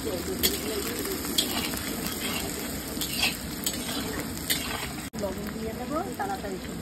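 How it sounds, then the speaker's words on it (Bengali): Onions stir-fried in a pan for a Barisal-style country chicken curry; steady sizzling with repeated scraping and stirring strokes of a spoon, a voice talking faintly over the cooking. "পেঁয়াজগুলোকে লাল লাল করে ভেজে নেবে।"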